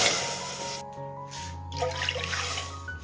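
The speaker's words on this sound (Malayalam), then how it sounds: "ഇനി ഇതിലേക്ക് പാലൊഴിച്ച് കൊടുക്കാം" Milk poured into a heated pan that already holds a little water, a close, continuous liquid trickle that turns into a brief bubbling splash as it lands in the hot metal.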